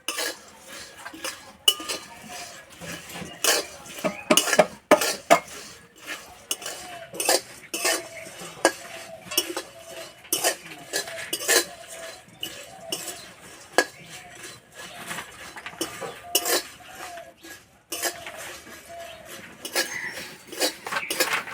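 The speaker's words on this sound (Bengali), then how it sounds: "কিছুক্ষণ ভেজে নেওয়ার পর খুব সুন্দর একটা গন্ধ বেরিয়েছে আর এই খইটা মুচমুচে ভাব হয়ে গেছে" Puffed rice (khoi) is dry-roasted in a pan while a utensil stirs it, giving a steady run of scraping, rustling and clinking strokes with sharp spoon-on-metal taps throughout, fairly close and with no one speaking.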